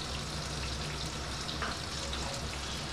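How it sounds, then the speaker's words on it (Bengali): Spices fry together in a pan for a Bengali mutton stew, giving a soft, steady sizzle and crackle that continues alone throughout. "এই মশলাগুলো সব একসঙ্গে ভেজে নিচ্ছি।"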